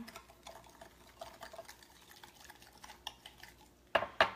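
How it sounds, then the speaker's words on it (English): A seasoned marinade of salt and pepper is stirred in a container before being poured over chicken. The stirring is faint and close, a soft wet swishing, and a couple of sharper clinks against the container come near the end. "We're gonna mix this all up."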